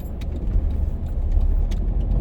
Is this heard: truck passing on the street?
yes